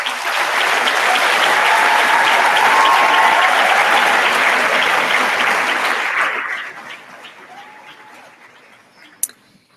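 Graduation ceremony audience applauding, a dense sustained round of clapping filling a hall for about six seconds before fading out into quiet room tone with a single sharp knock near the end.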